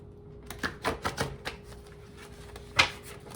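Oracle cards are shuffled by hand in a handful of light, uneven taps and flicks up close, followed by one sharper snap near the end, with no talking.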